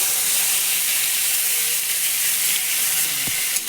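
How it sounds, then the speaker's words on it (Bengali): Whole cumin seeds sizzle in hot oil, a loud, steady frying hiss that goes on for the whole stretch, with one brief clack near the end. "তেল গরম হয়ে যাওয়ার পর এখানে দিয়ে দিচ্ছি প্রথমেই 1/2 চা চামচ গোটা জিরে"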